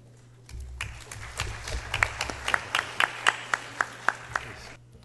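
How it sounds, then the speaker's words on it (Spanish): At a Lima education seminar panel, an audience welcomes a speaker with applause that builds from scattered claps into a sparse, rhythmic clapping, some individual claps standing out sharply near the microphone before it stops abruptly. "recibamos también con un fuerte aplauso a Luis Salazar"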